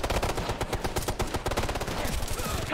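Rapid bursts of automatic gunfire in the video game Ghost Recon Future Soldier, dense repeated shots filling the whole stretch at steady loudness.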